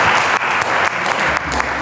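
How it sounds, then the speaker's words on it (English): An audience at a performing arts society event bursts into loud, close applause that stays full and continuous from start to finish. "Let's give an applause for her."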